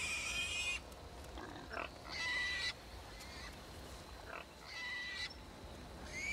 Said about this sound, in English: Here be pigs.